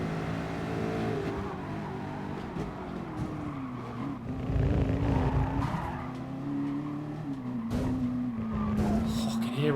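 Race car engines drone and whine in Gran Turismo Sport during a Gr.1 Le Mans or Gr.3 Maggiore online race, the pitch rising and falling through gear changes while tires squeal and skid loudly through the corners, with no talking.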